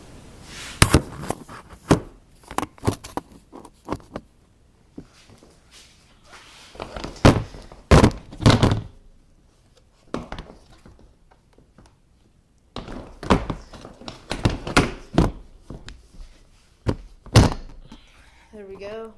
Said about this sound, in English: let me stick this seat back on here.